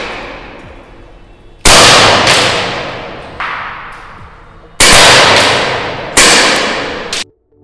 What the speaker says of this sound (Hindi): चलिए दोनों को फायर करके देखते हैं, मैं कोशिश करूँगा कि दोनों को एक साथ ही फायर करूँ सामने टारगेट पे।